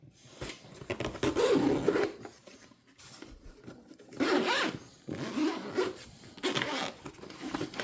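A zipper on a gun case is pulled in several short, quick rasping runs with pauses between them, close and clear, with no talk.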